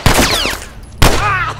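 Two loud gunshots ring out in the video game The Last of Us, about a second apart, each a sharp crack trailing into a ringing, whining decay.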